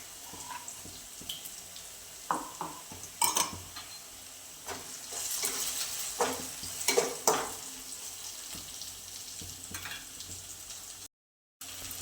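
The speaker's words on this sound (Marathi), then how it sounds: "जे अद्रक लसूण आणि खोबऱ्याची पेस्ट केली ते याच्यामध्ये घालून घ्यायची आता छान असं परतवायचं आहे आपल्याला" Ginger, garlic and coconut paste sautéing with tomatoes for a chicken curry, a steady close sizzle broken by scraping stir strokes and brief clatters, with no talking.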